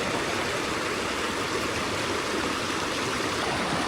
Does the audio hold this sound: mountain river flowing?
yes